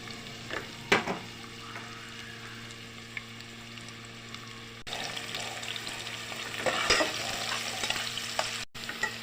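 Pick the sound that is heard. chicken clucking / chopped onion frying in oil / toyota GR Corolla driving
chopped onion frying in oil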